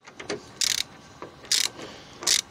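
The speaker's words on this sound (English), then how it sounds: "My 10mm didn't really fit on these, so I had to use my 11mm." A ratchet wrench fitted with an 11mm socket clicks in three quick bursts separated by brief pauses as bolts are worked during a radiator replacement on a 1998 Jeep Cherokee, close and fairly quiet with no talk.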